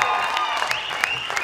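Audience applause at a women's contest event, continuous crowd clapping with some cheering, under a sustained musical tone.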